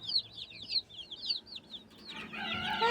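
Young chickens in an incubator room peep in quick, high, close chirps. Near the end, louder clucking from an older bird swells in.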